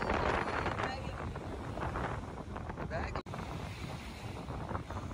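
Heavy wind buffeting a microphone out at sea on a boat trip to collect shells, a constant loud rumble and roar with water and boat noise mixed in, briefly cutting out near the middle.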